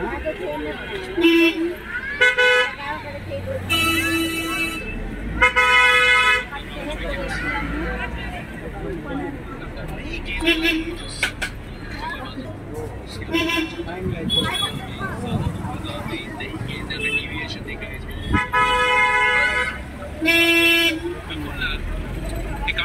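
Taxi horns and other car horns honk again and again in busy Mumbai city traffic, short and long toots near and far, while six people talk inside the taxi.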